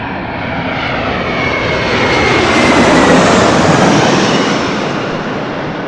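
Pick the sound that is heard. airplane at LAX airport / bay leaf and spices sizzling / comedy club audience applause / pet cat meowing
airplane at LAX airport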